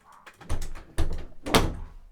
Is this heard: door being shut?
yes